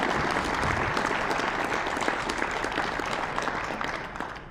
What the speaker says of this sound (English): let's give all these finalists up here another round of applause